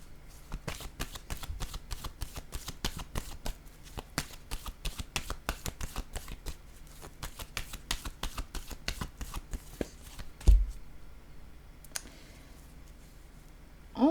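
Tarot cards being shuffled and drawn during a reading, a long run of quick, crisp riffling clicks up close, ending with a few sharper slaps as cards are laid down.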